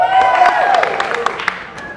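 Street-show spectators at Philly Fest 2016 clap for the shark option: a moderate round of scattered hand claps with crowd voices and shouts mixed through, tapering off.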